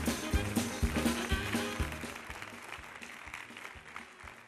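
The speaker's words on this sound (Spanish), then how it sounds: "fuerte aplauso para ella" Audience applause at a charity gala in Barbastro, with loud rhythmic thumps at the start that fade to lighter scattered clapping as it goes on.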